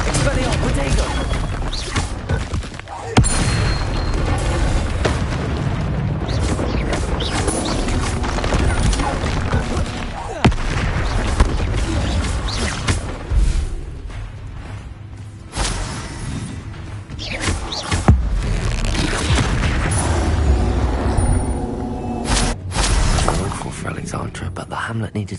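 Spell-casting blasts in Hogwarts Legacy on PS5 make a loud, nearly constant barrage of crashes, whooshes, thuds and booming impacts, with a few brief lulls, and a voice is heard amid the fighting.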